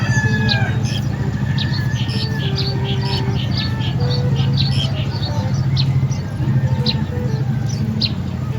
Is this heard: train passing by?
no